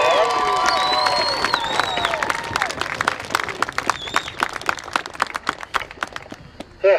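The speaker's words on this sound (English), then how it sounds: "If you can give them a round of applause." A crowd claps and cheers for the Illinois State Marching Band Championships Class 1A champion marching band, loud at first with whoops and whistles, then thinning into scattered individual claps as it fades out.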